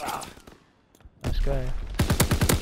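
Video game gunfire in a tactical shooter match: a quick burst of sharp, loud shots near the end, after a short spoken remark and some background game noise.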